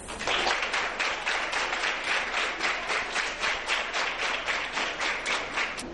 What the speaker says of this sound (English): A round of applause for the audience.